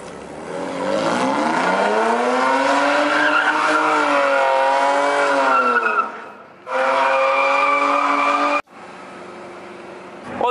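BMW E46 drifting, long loud wavering tire squeal over a revving engine, close by, cutting off briefly and then resuming in a second and third burst.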